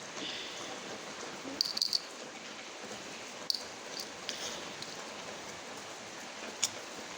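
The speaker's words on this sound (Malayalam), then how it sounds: "ചാറി ചാറി വന്നു മഴയാണ് ചാരിച്ചൽ മഴ" Light rain patters steadily in a soft hiss, with occasional faint drips standing out; no voices.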